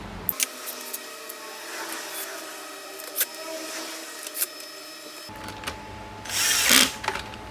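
A power tool works on a large nut on a Ford Ranger during a hazard-light switch replacement, with faint whining and scattered clicks, then a loud, brief whirring burst near the end.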